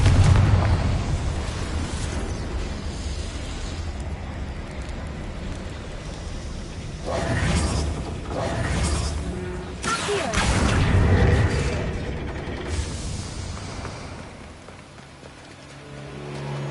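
A Confringo fire spell explodes in Hogwarts Legacy, with a loud, sustained rumbling blast and crackling debris that swells, dips and rises again over several seconds, with no voice over it.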